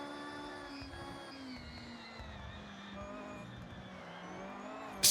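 A Porsche engine in Forza Horizon 6 drones steadily through a race with a sustained, even tone that rises briefly near the end.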